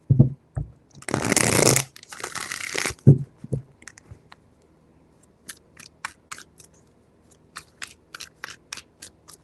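Tarot cards are shuffled by hand in a quick riffling burst, followed by lighter scattered taps and flicks of cards being handled close up.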